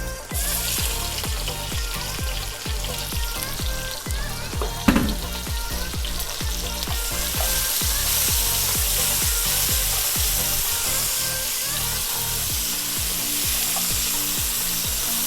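Onions sizzle and fry steadily on a Blackstone griddle for birria tacos, with a loud constant crackle and repeated scraping strokes of a spatula, plus one sharp clank partway through; no one speaks.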